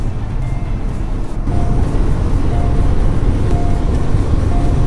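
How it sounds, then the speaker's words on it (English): A Hyundai Kona Electric SUV driving on the road, heard from inside the cabin as a steady, loud rumble of road and tyre noise. A faint high tone rises and falls, with no engine roar. "Despite the fact that this is an all-electric vehicle, it does feel very comfortable to drive"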